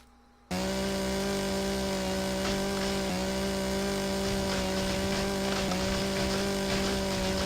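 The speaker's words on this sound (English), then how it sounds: "The hitbox of the tree seems a little weird with a chainsaw." A chainsaw cutting down a big tree in the video game Empyrion Galactic Survival starts abruptly and runs as a steady, loud, buzzing engine drone with a few brief dips in pitch as it bites into the wood.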